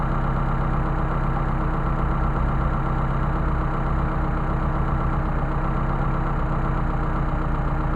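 A car engine idling steadily with Solex 44PHH carburettors being adjusted, a constant close-up mechanical hum with a slightly uneven, pulsing low rhythm, alone without talk.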